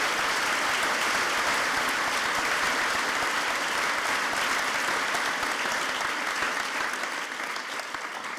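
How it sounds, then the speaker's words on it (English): Sustained round of applause from a large audience at a 2019 graduation ceremony, dense and even clapping filling the hall, easing off slightly near the end. "I'd like you to please to give a round of applause to the floor staff"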